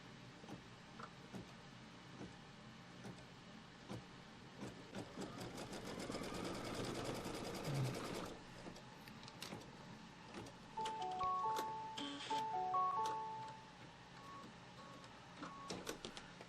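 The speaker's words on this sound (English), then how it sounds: "now it's going to stitch a line from here to here" A computerized embroidery sewing machine stitches a line across a quilt square, its quiet, rapid mechanical whirring and ticking steady and close, with faint electronic beeps partway through.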